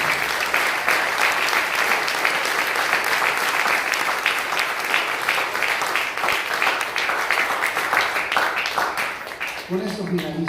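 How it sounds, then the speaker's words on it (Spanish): A church congregation claps hands steadily and continuously for about ten seconds, a dense, even patter of many hands, with voices faintly mixed in near the end. "Dale palmas al Señor"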